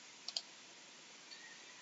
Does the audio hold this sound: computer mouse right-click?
yes